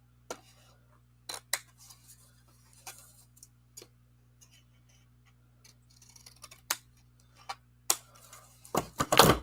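Scissors trim photocopied paper for a Graphic 45 Flower Market album, giving sparse, quiet snips and clicks spread over the clip, with a louder rustle and cutting burst at the end.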